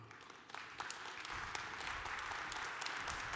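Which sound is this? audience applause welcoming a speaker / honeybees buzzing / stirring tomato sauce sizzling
audience applause welcoming a speaker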